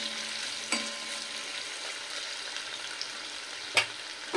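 Paneer fries with a little turmeric in a pan, making a soft, continuous sizzle with a couple of brief clinks or stirring knocks over the quieter hiss.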